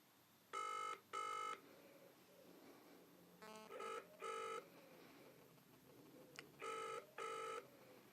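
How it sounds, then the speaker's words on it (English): A telephone rings in repeated double bursts, a steady electronic trill with pauses between, heard faintly over a quiet line with a low hum. "It's ringing."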